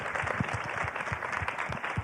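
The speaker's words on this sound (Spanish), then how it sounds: "quisiera regalarles un aplauso, pero no lo puedo dar yo solo" Audience applause at a fintech event, a sustained patter of many hands clapping at moderate loudness, with a few sharper individual claps standing out near the front.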